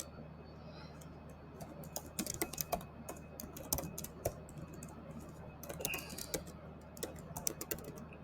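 Close typing on a computer keyboard while writing a Python password generator program: soft, quick key clicks in uneven bursts over a steady low hum, with no speech.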